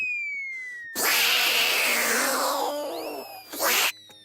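A loud, close cat meow, one long wailing cry followed by a short second call, with a faint whistling tone in the background.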